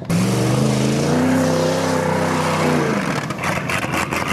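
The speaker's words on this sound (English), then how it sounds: "Oh yeah, she's running out of gas all right." A big car with a 6.7 engine running out of gas: a loud, close engine drone with wavering tone for about three seconds, then it sags and breaks into rough, uneven sputtering pulses as the fuel runs dry.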